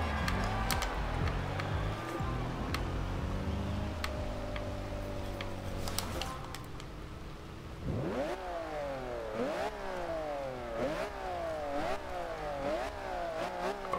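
A 2002 Ferrari Enzo in the racing game Forza Horizon 2 revs hard on a rainy track, its engine climbing through a long rising pull, dropping off, then surging again in repeated quick up-and-down sweeps, loud and alone.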